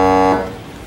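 The buzzer on a game show marriage machine blares in one loud, harsh electronic tone that cuts off quickly and leaves a fading ring.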